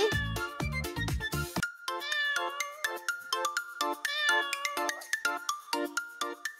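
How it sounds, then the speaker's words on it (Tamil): Bright, repeated meows ring out rhythmically through a Tamil kitten song for children, set against cheerful tuneful music with no spoken words. "மியாவ் மியாவ் பூனைக்குட்டி"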